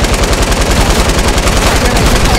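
Rapid automatic gunfire from a weapon in the video game Fortnite, during a large 50 vs 50 match on Xbox One X, a loud continuous burst of closely spaced shots with game sounds behind it.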